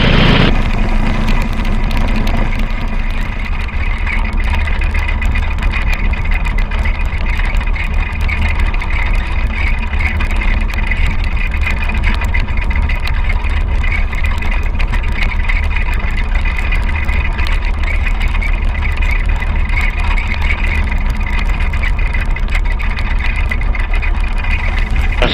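Steady, loud motorcycle engine drone while riding through the Black Hills during the Sturgis Motorcycle Rally, a continuous close-up hum with wind buffeting and no pauses.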